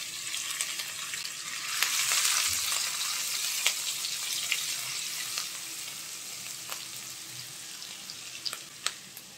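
Chopped onion and green chili hit hot oil after ginger and garlic, frying in a pan for a noodle dish; a steady close sizzle with crackling pops throughout, swelling early then settling.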